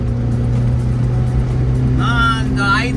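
A Honda Acty kei truck engine idling with a steady low hum and a faintly weak, uneven note, while a person talks over it near the end.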